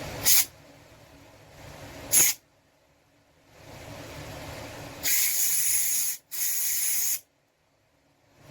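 Compressed air blasting from an air hose in short bursts: two sharp puffs, a longer softer hiss, then two loud sustained blasts separated by a brief pause, all close and without talk.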